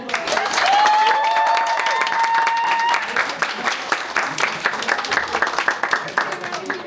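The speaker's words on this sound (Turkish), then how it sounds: "Bike'ı bir alkışlayalım" Audience applause for Bike at a student meetup, steady dense clapping from a crowd that begins with a sustained tone and carries on throughout, with a voice talking over it.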